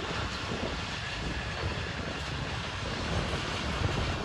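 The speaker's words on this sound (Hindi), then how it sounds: "इसका बहुत शोर होता है रेलगाड़ी का, इतनी लंबी रेलगाड़ी यार" A long passenger train rumbles past up close, a loud, steady broadband roar of wheels and carriages that holds evenly from start to finish with no voices.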